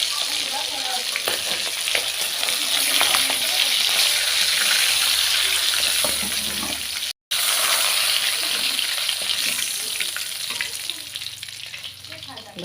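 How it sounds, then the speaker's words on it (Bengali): Tangra fish frying in hot oil, a loud, steady crackling sizzle with sputtering pops that runs almost without a break, briefly cut by a short silence partway through. "এটা কিন্তু মাছ ভীষণ ফোটে, ঢেকে ঢেকে ভাজতে হয়"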